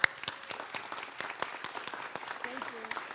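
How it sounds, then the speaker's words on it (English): Audience applause for city park staff at a council afternoon session, scattered clapping with distinct individual claps, moderately close, and a brief voice near the end. "So big round of applause for all of them,"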